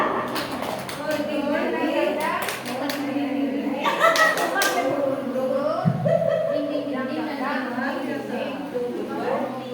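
A group of teachers plays a rhythmic clapping game indoors, clapping in short sets of two and three claps between chanted counts, with the claps loud and sharp over voices and murmured talk.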